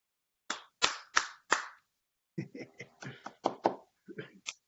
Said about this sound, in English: We have to applaud for this one.